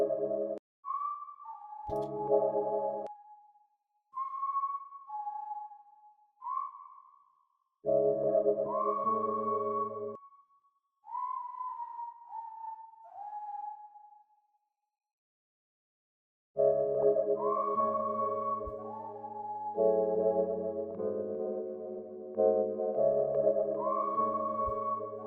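Simple whistle-like tones from a VST software synth come in short pitched phrases that slide and bend, separated by pauses, with fuller layered chords in the later part and a silent gap in the middle.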